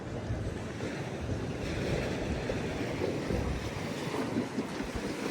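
Water sloshes in the adult-only pool aboard the MSC Grandiosa cruise ship, a continuous broad wash of splashing and lapping mixed with wind rumble, steady and fairly loud, with no talking.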